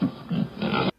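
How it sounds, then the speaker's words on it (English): A pig grunts and oinks in a short run of rough snorts lasting about a second, close and moderately loud, then stops. "I hear a pig."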